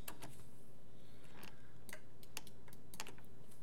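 Someone types on a computer keyboard while modeling a 3D character, leaving a quick irregular run of sharp clicks over a quiet steady hum.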